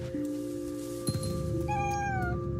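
A cat meows inside the video game What Remains of Edith Finch: one short call and then a longer, falling meow over a steady ambient game hum.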